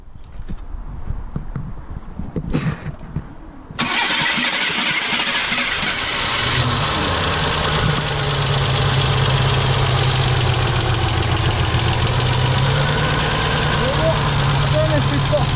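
A 1982 Ford Sierra Ghia engine cranks and catches, then settles into a rough, steady idle that runs on loudly and close by, with faint rustling before the start.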